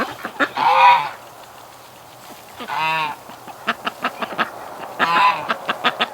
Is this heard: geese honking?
yes